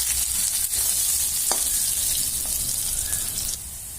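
Onions sizzle in a frying pan over medium flame, a steady crackling hiss with a few soft clinks of stirring, close by and without talk.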